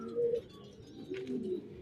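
Pigeons coo softly nearby, a couple of low, rounded calls in quick succession with faint outdoor background.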